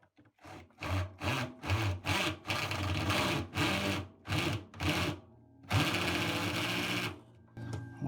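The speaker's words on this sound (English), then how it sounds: "Tighten it up with an electric screwdriver." An electric screwdriver tightens a screw while fitting a new door seal on a Bosch washing machine, whirring in a run of short, close bursts followed by one longer sustained drive at the end.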